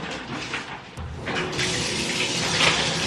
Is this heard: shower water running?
yes